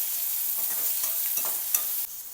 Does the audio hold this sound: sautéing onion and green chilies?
yes